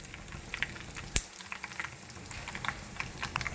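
Cumin seeds, dried red chillies and curry leaves fry in hot oil for a tempering, giving a soft, steady crackle and spitting with one sharp pop partway through, close by and with no voices.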